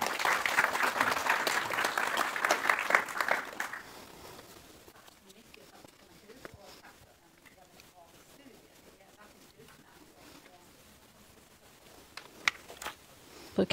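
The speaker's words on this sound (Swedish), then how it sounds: "En applåd till dig också tycker jag." Audience applause at a public talk on global migration, a few seconds of clapping that fades quickly, followed by quieter room noise, scattered taps and talking.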